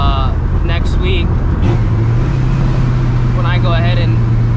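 A straight-piped, cammed and Procharged 650 hp 1999 Mustang GT engine drones steadily from inside the car, with a low sustained exhaust note that steps up in pitch partway through, overlaid by brief whining tones.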